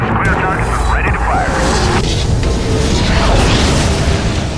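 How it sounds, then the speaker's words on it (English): Artillery strike in the video game Prototype destroying a base, heavy continuous booming blasts and rumbling explosions filling the whole stretch, loud and dense, with game radio voices and effects layered in. "Here we're going to destroy a base, which is one of the objectives of this mission, by using the artillery strike ability of the commander"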